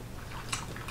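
A bite into a vegan Whittaker's chocolate bar with crunchy honeycomb pieces, chili and orange gives a single close, crisp snap followed by faint crunching, alone without talk.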